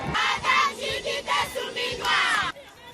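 An enthusiastic crowd cheers and shouts in bursts, dense and loud, with repeated swells of voices, as the head of government arrives in Lualaba under a bright sky.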